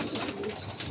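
Young racing pigeons let outside coo softly in a brief, close murmur against a low background hum.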